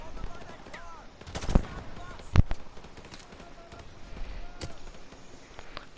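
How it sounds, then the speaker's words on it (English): Gunfire in Call of Duty Modern Warfare Remastered, with a few sharp gunshot bursts and cracks scattered over ongoing game sound, and a voice talking quietly in the background. "Yo, who's shooting me?"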